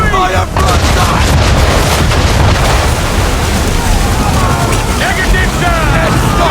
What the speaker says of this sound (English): Fire broadside!